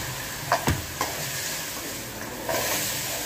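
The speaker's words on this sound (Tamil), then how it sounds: "வதங்கினதும் இப்போ தக்காளி சேர்த்து நல்லா வதக்கிக்கலாங்க." Onion, ginger garlic paste and tomato sautéing in a pan, a constant close sizzle broken by a few sharp scraping and clanking stir strokes, with no voices.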